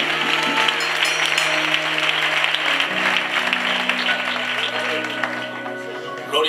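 A church congregation applauds during a baptism service, a steady wash of clapping that holds for several seconds over sustained musical tones and fades slightly near the end.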